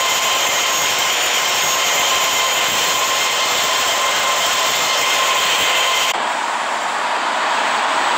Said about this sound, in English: November 175 Victor Whiskey is taking off runway 25 left,